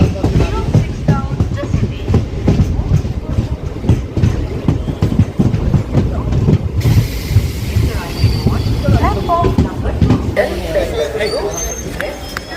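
A Sealdah–Dankuni local train rolls into Dankuni railway junction, its rumble and rhythmic wheel clatter loud and close from inside the carriage, with people talking over it.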